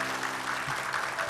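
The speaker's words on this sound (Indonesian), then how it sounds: "Ya, tepuk tangan dulu untuk wanita tersebut." Studio audience applause on an Indonesian TV talk show, a steady dense wash of clapping at moderate level with no talk over it.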